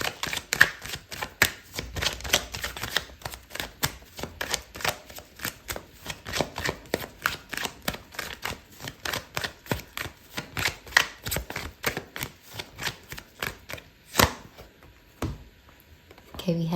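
Tarot cards being shuffled up close, a long run of quick riffling flicks in steady rhythm that breaks off near the end as a card is drawn, with a voice speaking softly at times.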